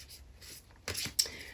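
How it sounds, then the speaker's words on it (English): Tarot cards being shuffled: two short, quiet papery riffles close together after a near-silent start. "Let's give them a good shuffle."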